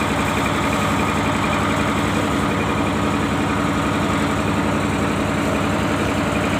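A Yanmar TF300 diesel generator engine runs on a fishing boat, giving off a continuous loud, steady chugging drone with no break or voices.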